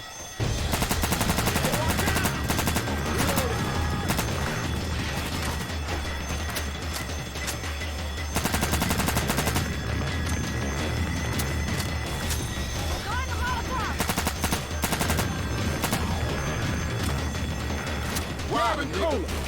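Rapid bursts of gunfire from the zombie shooter game Left 4 Dead 2 run almost nonstop, with loud overlapping shots and booming blasts throughout while voices talk over the action.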